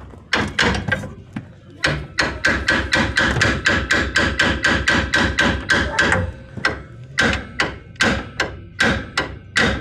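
A hammer pounds a seized car ball joint during heavy forcing work. The rapid, loud, close strikes come in a steady rhythm of two dozen or more, with one brief pause early on.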